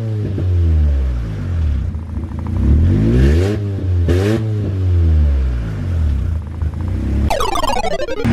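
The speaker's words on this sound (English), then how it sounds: "Hit the gas pedal." Car engine revving hard as the gas pedal is pressed, repeated close, loud rises and falls in pitch, with a sharp high-revving surge near the end.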